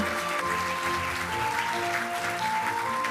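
Audience applause fills the hall at the opening ceremony of an AI global forum: steady, dense clapping from a large crowd, close and continuous, with faint tones running beneath.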